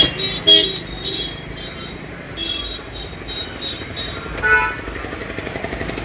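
Traffic jammed by a Ram Navami procession in Shegaon, with vehicle horns tooting a few times over a steady outdoor rumble and faint insect-like chirping.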